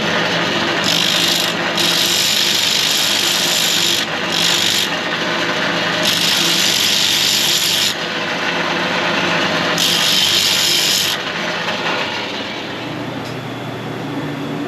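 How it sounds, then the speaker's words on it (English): A grinder taking a piece of slag off a truck part, loud continuous abrasive rasping with repeated high-pitched surges as the disc bites, steady and close. "So grind this little piece of slag off."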